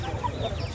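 Brief clucking from a fighting rooster nearby at a weekly pet market, a few soft throaty notes over low background noise.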